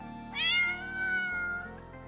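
A single clear cat meow, rising then drawn out and falling, followed by a faint short second mew.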